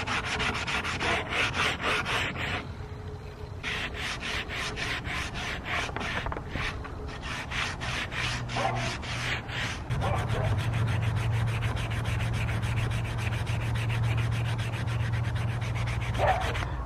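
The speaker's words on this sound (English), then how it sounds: "Our 220 grit sandpaper, just to give it a little bit of a smoother surface." Steady, close rubbing of 220 grit sandpaper smoothing the worn wooden handle of a farm fork, continuous back-and-forth strokes that grow slightly louder and rougher in the second half, with no voices.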